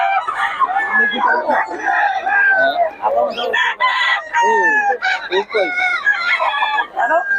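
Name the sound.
roosters crowing and clucking at a chicken market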